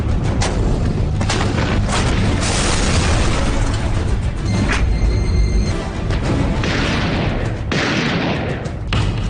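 Bombs explode in a Kargil-war battle sound effect: loud, continuous booms and bursts overlap with crackling gunfire, rolling on without pause.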